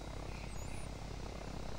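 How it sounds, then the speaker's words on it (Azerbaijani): A passenger airplane flies in the video game Arma 3, producing a quiet, even engine roar that drones on steadily, with no voices present. "Sərnişin daşıyan təyyarədir."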